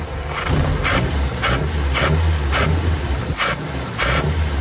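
A Mazda Interplay engine with a carburetor fault runs at close range, its steady rumble broken by a regular series of short bursts, about seven in under five seconds.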